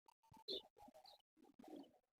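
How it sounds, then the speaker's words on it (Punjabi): A Chuha breed pigeon coos close by in a quiet space, a few soft, throaty phrases in an uneven rhythm with brief gaps between them. "ਲੋ ਜੀ, ਇਹ ਚੂਹਾ ਕਬੂਤਰ ਹੈ"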